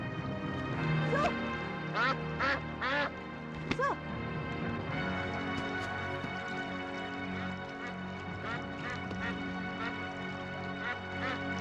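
A belibis, a whistling duck, quacks in an Indonesian costume drama, giving several loud, rising calls in quick succession, then more scattered calls, with people talking and shouting around it.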